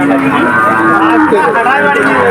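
A cow at a busy cattle market gives a loud, close, drawn-out moo with a wavering pitch, set against a low murmur of the surrounding crowd.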